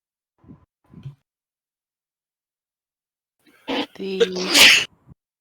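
Two faint short noises, then a sharp, loud sneeze bursts out near the end, followed by a small trailing sound.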